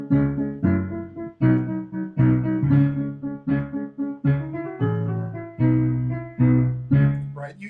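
A piano plays accompaniment in a driving motor rhythm style, with repeated chords pulsing in a steady, insistent pattern and a low bass underneath, heard alone and close.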